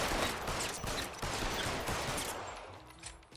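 Close, loud gunfire in a video game, a dense flurry of rapid shots that crackle for a few seconds before tapering off, with no talk over it.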